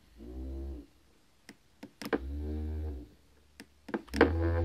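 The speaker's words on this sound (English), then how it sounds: "You can also adjust the rumble by holding the turbo button and pressing plus to increase the vibration," Exlene GameCube controller with its rumble vibration turned up, giving loud buzzing bursts of about a second each, several in a row, with small clicks and taps in between.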